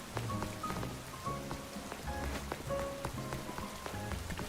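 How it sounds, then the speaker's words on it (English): Rain falls steadily in Pokemon Legends ZA, a constant patter on surfaces with scattered drip-like ticks, fairly quiet and continuous with no talking. "It's raining."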